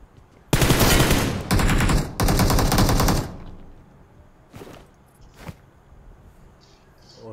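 Automatic gunfire in the mobile game PUBG Mobile: three loud, rapid machine-gun bursts close up, then a couple of fainter distant shots.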